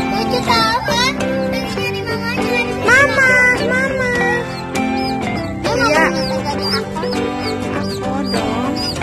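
A newly hatched chick peeps in high, rapid chirps that repeat through the whole stretch, loud and close, with occasional talking in the background.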